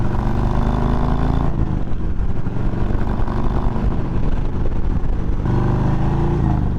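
A Harley-Davidson Road Glide motorcycle engine idles steadily throughout, a loud, continuous low rumble with a deeper throb near the start and end.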